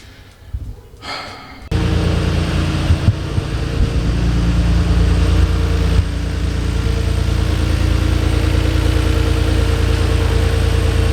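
A Nissan R32 GT-R with an RB26 engine suspected of damage runs just after startup. A brief rustle leads into a loud, steady, close idle with a deep low rumble that holds without pause.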